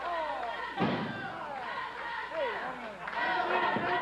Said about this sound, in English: slamming Doug's head into the top turnbuckle